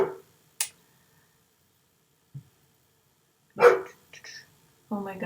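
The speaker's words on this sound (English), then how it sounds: "these dogs are not going to stop barking" Several dogs bark in short, separate bursts, some sharp and clipped and others louder and fuller, spread across a quiet indoor stretch with long gaps of silence between them.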